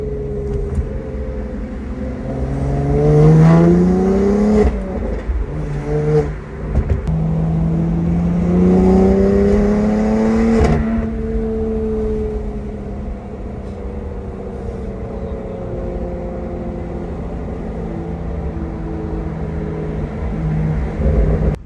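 A car engine revs repeatedly through an MPE aftermarket exhaust with a deep, raspy note, rising and falling in pitch before settling into a steady rumbling idle.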